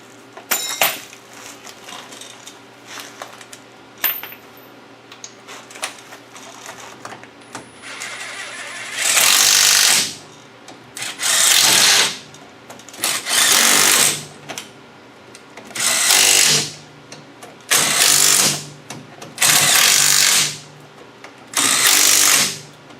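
An impact wrench tightens rear gear bolts on a rear-wheel-drive truck axle, firing in about seven loud, evenly spaced bursts of hammering whir, each roughly a second long, with short quiet gaps between.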